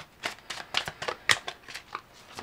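A tarot deck is shuffled and a card drawn, a quick run of soft papery flicks and snaps, close and fairly quiet, with no talking.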